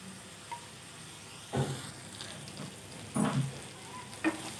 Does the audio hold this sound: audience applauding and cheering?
no